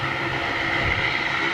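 Small Saab aircraft passing overhead, a steady continuous engine drone with a sustained mid-pitched tone and low rumble, moderately loud and unbroken for the short stretch, with no voices.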